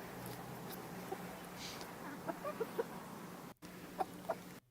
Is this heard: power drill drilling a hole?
no